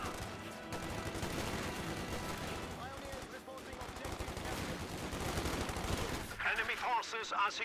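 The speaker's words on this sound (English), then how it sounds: "We got the MG42. That's flanking fire." Rapid MG42 machine-gun flanking fire in the Company of Heroes 2 battle game, dense sustained bursts of gunfire running throughout amid other battle sounds, with speech-like voice lines near the end.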